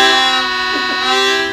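A train imitation played on a harmonica fitted with a BluesBox, a sustained chord of several held reed notes with a bent, wailing pitch swoop in the middle, loud and close with no talking.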